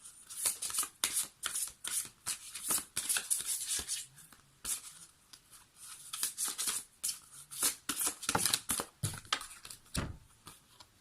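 Tarot cards are shuffled and riffled in quick, close bursts of papery flicking and snapping, separated by short pauses as cards are drawn, with a louder slap near the end and no talking.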